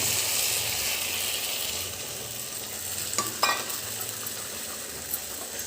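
Beaten eggs, four of them, stirred in a frying pan over low flame, giving a steady soft sizzle with a brief scraping clatter of the utensil partway through.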